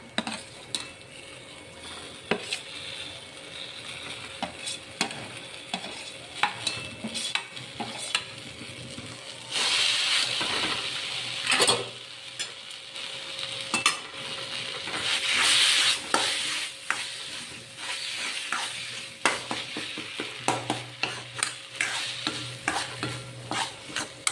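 Roasted, peeled and mashed eggplant is stirred in a hot pan for bharit, with repeated scraping and tapping of a spoon against the pan over a steady sizzle, swelling louder at moments, close and without speech.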